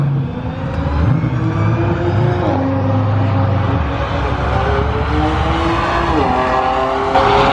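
A BMW 335is makes a drag run at a car show, its engine roaring loudly as it climbs through the revs, with clear gear shifts dropping the pitch before it surges again.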